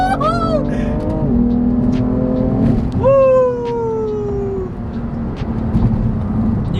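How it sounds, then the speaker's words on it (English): A BMW F80 with a dual-clutch gearbox launches hard under launch control, its turbocharged engine revving up in rising sweeps with quick gear changes, loud and close throughout. "when those turbos kick in, the car is not gonna want to stop"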